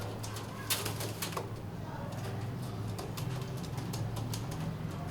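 Pigeons of old pure Indian Ferozpuri breeds, large and broad-winged, coo softly and steadily in a loft at Mohni Road, Lahore, with a low continuous murmur and brief wing flutters and clicks mixed in.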